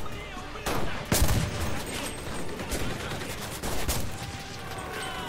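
Gunfire in the WW2 shooter Enlisted, a series of loud, sharp shots and bursts cracking close by amid ongoing battle noise, with a player speaking over part of it.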